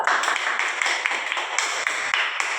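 A classroom group claps in dense, continuous applause for a student group after its presentation, steady and fairly loud, with no voices over it.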